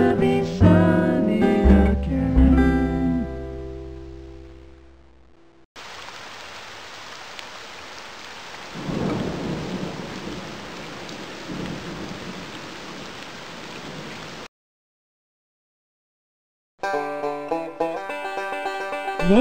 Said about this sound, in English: It's raining, it's pouring. Will this storm ever end?